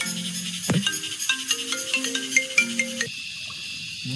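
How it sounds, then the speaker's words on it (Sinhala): A phone ringtone sounds for an incoming call on a mountain trail, playing a bright melodic run of electronic tones for about three seconds before stopping, with a faint background hiss after. "කවදාවත් කාටවත් අරදින්න නැති කෝල් එකක් මේක."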